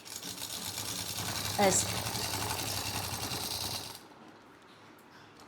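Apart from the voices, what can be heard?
sewing machine stitching edge of cotton fabric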